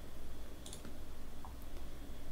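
Computer mouse clicking on an on-screen button while installing a WordPress theme: a few faint, sharp clicks close by over a quiet background hum.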